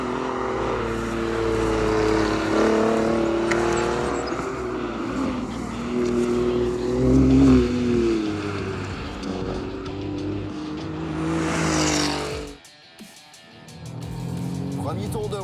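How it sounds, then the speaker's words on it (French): An Alfa Romeo Giulia Quadrifoglio laps the Autodrome Saint-Eustache race track, its engine rising and falling through gear changes from inside the car, with someone talking over it. The engine note drops away sharply near the end. "Premier tour de roue au volant du Alfa Romeo Giulia Quadrifoglio."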